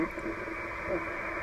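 A single sideband ham radio signal comes through a receiver as a steady band of hissy, muffled audio with garbled voice-like texture, continuous and moderately loud.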